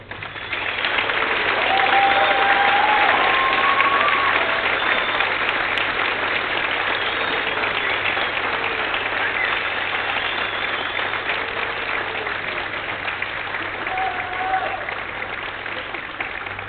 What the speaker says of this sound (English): let's give a round of applause to all of our guests.